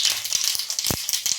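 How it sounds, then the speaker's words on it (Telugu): Mustard seeds and cumin fry in hot oil in a pan, giving close, irregular sharp pops and crackles over a soft sizzle, with no talking. "ఆవాలు కొన్ని వేసుకున్నాం. అలాగే జీలకర్ర కొంచెం"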